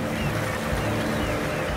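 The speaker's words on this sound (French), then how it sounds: "Pendant plusieurs heures, à pleine puissance de son moteur, le navire va tracter le chalut sur les flancs des canyons sous-marins" A fishing trawler off Newfoundland runs its engine at full power while towing a trawl net along undersea canyon slopes, giving a steady, loud, close drone with a low hum and rushing water wash throughout, with no voices.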